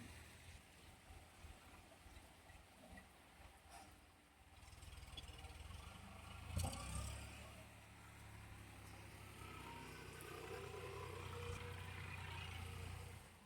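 Cars passing on a wet, rain-soaked rural road, faint tyre hiss and low engine rumble rising as a vehicle goes by midway, then a steady wash of traffic and rain noise.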